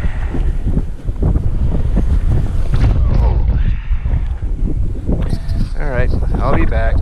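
Wind buffets the microphone on a beach amid breaking surf, a loud gusty rumble throughout with bursts of rustling, and a voice briefly speaks near the end.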